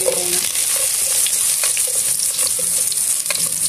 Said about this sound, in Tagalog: Okay, so ilagay natin ang ating ginger.